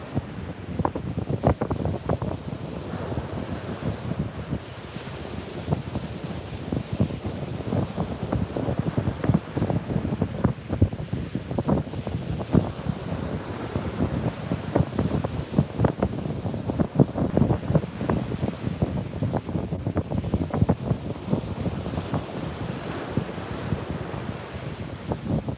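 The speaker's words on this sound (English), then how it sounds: "listen to a few more of those beautiful waves" Big ocean waves break and wash onto a beach at sunrise, a steady rolling surf roar with wind buffeting the microphone throughout, no voices.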